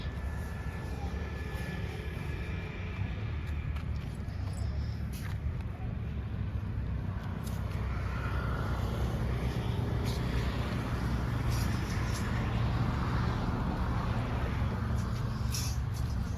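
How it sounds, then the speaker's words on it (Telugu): Constant low rumble of road traffic with engines droning and occasional brief hisses, steady throughout and moderately distant. "ట్రాఫిక్ ఎక్కువగా ఉంది మీకు సౌండ్లు రావచ్చు బాగా"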